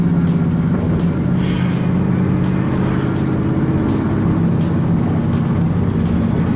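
A 2012 Chevrolet Camaro SS 45th Anniversary edition being driven on a hot day, its engine a steady, close drone under constant road and tyre noise, with no talk.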